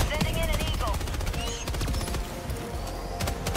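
Rapid automatic AA-12 shotgun fire in the Helldivers 2 video game, with a switch for full-auto, a dense continuous barrage of overlapping shots and battle noise, loud and close, with talk over it.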